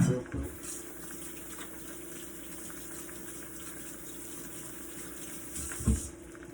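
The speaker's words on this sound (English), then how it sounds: "Wash my hands real quick." A kitchen tap runs steadily while hands are washed during cooking, a continuous even gush of water with a brief clunk at the start and another near the end.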